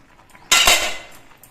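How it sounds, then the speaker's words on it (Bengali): A metal lid lifts off a cooking pot of papaya, potato and vegetables simmering on a gas stove, making one sharp clank and scrape followed by a brief fading hiss, close and alone. "কিছুক্ষণ পর আবার আমি ঢাকনাটা খুলে নিচ্ছি"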